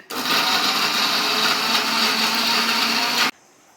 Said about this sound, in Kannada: ಈಗ ಮಿಕ್ಸಿ ಜಾರ್ನಲ್ಲಿ ಹಾಕಿ ರುಬ್ಕೊಂಬಿಡೋಣ ಮಸಾಲೆ. ಸ್ವಲ್ಪ ನೀರು ಹಾಕಿ ನುಣ್ಣಗೆ ಮಸಾಲೆ ರುಬ್ಬಿಡೋಣ